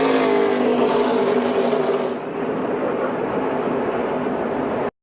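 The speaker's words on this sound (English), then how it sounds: "Now Andres Perez de Lara going to try to tag onto the back bumper of the 18 car." ARCA Menards Series West stock race cars roar around the track at Phoenix, a loud sustained engine drone that eases slightly partway through and then cuts off abruptly at the end, with no talk.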